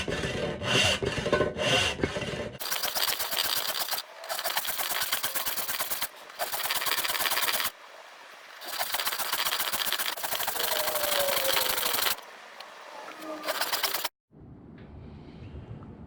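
A homemade ice saw cuts through ice in long runs of rapid, gritty back-and-forth strokes, loud and close, broken by brief pauses, with a quieter stretch near the end.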